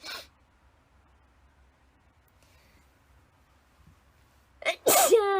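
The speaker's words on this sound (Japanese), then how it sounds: "やっぱくしゃみ出るんだよね" A young woman gives one loud, close sneeze at the end after a long quiet stretch with faint low rumble; a soft breathy burst opens the stretch.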